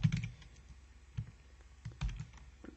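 Code being typed on a computer keyboard, with irregular bursts of key clicks spread over a few seconds, fairly close and alone, with no talk over it.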